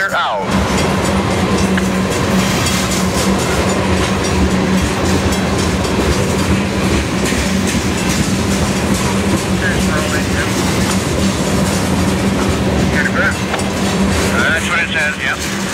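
A Canadian Pacific freight train rolls past on the rails at Craighurst, a steady, loud rumble with rhythmic wheel clatter that runs without a break for the whole span; a distant high squeal rises near the end.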